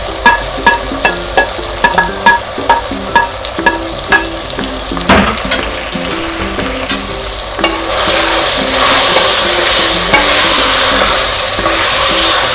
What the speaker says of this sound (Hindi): अब इसमें हम ये प्याज डालेंगे जो हमने काट के रखे थे।